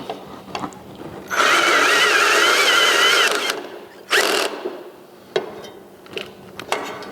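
A power tool drives self-tapping screws into a metal rail, giving a loud whirring burst of several seconds followed by a shorter second burst, with clicks and handling noises in between.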